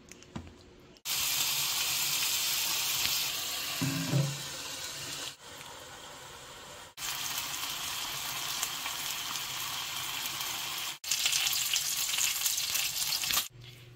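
Marinated meat fries in a pan with loud, steady sizzling that breaks off several times for short pauses, with a brief clatter of stirring partway through.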